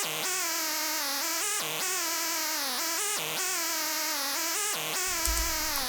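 A layered Serum 2 synth with no effects applied, playing a bright, buzzy lead in repeated sliding phrases with pitch bends and short gaps, loud and alone, for a beat.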